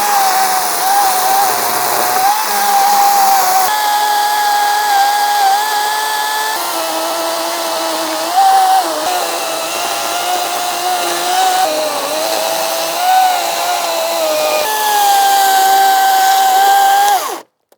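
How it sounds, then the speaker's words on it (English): An Ego 56-volt battery chainsaw cuts across the top of a log to flatten it. A loud, sustained electric whine holds for about seventeen seconds with slight dips in pitch, then stops abruptly. "I'm gonna see if I might be able to cut the top of this log somewhat flat"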